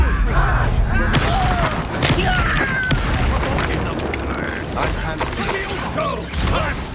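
Confringo blasting spell explosions in the video game Hogwarts Legacy, several heavy booms and thumps amid battle clatter and creaking mechanisms, loud and close, with voices talking over them.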